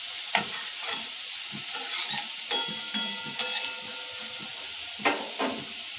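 Banana stem (thor) frying in a little oil and being stirred in a pan, a steady sizzle broken by repeated scraping strokes and clinks of the spatula.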